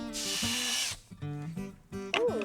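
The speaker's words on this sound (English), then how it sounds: "we install a countersink bit that will create a cone-shaped hole" A power drill fitted with a countersink bit whines loudly and steadily while boring a cone-shaped hole in a wall bracket for a copper-pipe shelf, revving and pausing several times in close, continuous bursts.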